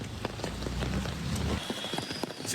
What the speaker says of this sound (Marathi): पाऊस इतका भारी पडता नाही बघा